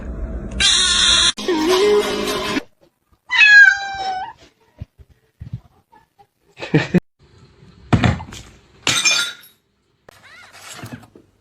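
A cat meows several times, with loud harmonic calls mixed among bangs, clinks and scuffling noises, then shorter cries trailing off amid quieter gaps.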